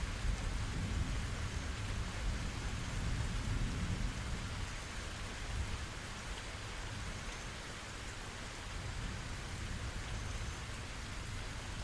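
Steady rain pouring down with deep low rumbles of thunder rolling beneath it, a dense even hiss swelling slightly at the start and easing later, continuous and fairly soft.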